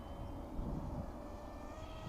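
An E-Flite V1200 1.2-metre RC jet plane flies at half throttle on its maiden flight, a steady, fairly faint ducted-fan whine and rush that holds level throughout without breaks.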